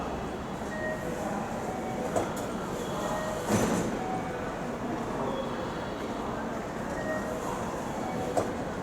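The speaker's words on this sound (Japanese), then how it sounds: "まもなく0番乗り場から特急サンダーバード31号金沢行きが発車します。" A JR West Thunderbird limited express pulls out of a platform at Kyoto Station, a steady low rumble of rolling rail noise with a few faint clunks and clacks, fairly distant and alone without talk.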